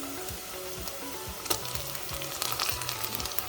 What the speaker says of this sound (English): we want our meat to get fried, our meat and onions to fry really well